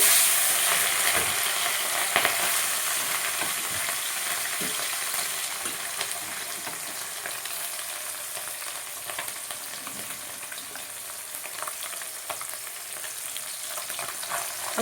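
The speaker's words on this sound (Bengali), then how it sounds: "এই মাছ কটা আমি একবারে সাঁতিয়ে নেব" A continuous loud crackling sizzle of fish sautéing in hot oil after a cumin-seed tempering, steady throughout with small pops and spits.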